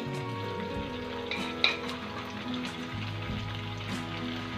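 Garlic ginger paste and golden onions fry in oil for chicken karahi, a steady soft sizzle close up with a brief louder clatter partway through and a low background hum, no talking.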